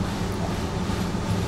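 A train slows to a stop in Train Sim World 2 on the Chur to Arosa route in winter, giving a dense, continuous rumble of wheels and brakes close by.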